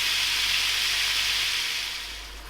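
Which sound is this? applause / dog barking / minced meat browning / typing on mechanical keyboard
minced meat browning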